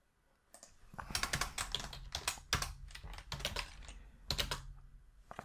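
Rapid bursts of keystrokes on a computer keyboard, close and crisp, coming in irregular clusters with short pauses between them and no talking.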